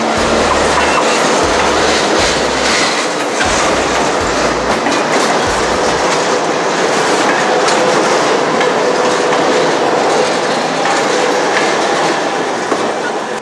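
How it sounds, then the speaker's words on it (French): A Napa Valley Railroad train rolls past up close and loud, with a continuous rumbling roar, rhythmic clatter of wheels over rail joints and occasional metallic squeals throughout. "Il va y avoir une manœuvre maintenant pour que la locomotive qui est en tête passe en queue du train."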